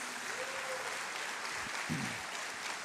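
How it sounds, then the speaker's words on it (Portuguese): Church congregation applauding Jesus during a worship service, a soft, distant and even wash of clapping that continues throughout, with a brief tonal sound and a low thump partway through. "Aleluia, você pode aplaudir Jesus?"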